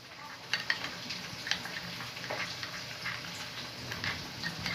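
Spice paste being stirred into a little water in a bowl, a soft steady swishing and scraping with faint clinks of the spoon, close and fairly quiet, with no talking.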